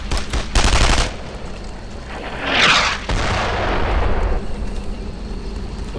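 Gunfire in the World War II shooter Brothers in Arms: Earned in Blood: loud bursts of shots and a booming blast, with a rumbling roar after it, all close and heavy.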